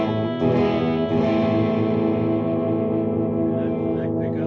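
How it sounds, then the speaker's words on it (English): Epiphone 60's Les Paul or Harley Benton SC-450 Les Paul copy played through dirty distorted tones, with thick sustained overdriven chords ringing loudly and continuously, with no voices. "now we're going to try some dirty tones on this."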